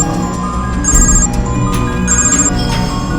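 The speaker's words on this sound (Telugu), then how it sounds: "అన్నా ఆడి ఫోన్కి డిఎస్పీ ఫోన్ చేస్తున్నాడు అన్నా." A phone rings with an incoming call in a film scene, a repeating electronic ringtone sounding in bursts over a dense, steady background of music and room noise, with no talk.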